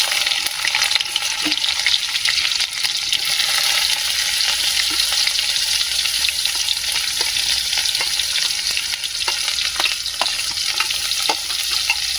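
Maggi noodles and egg frying in a pan at an outdoor campsite in a corn field, a steady loud sizzle with stirring scrapes throughout and no talking.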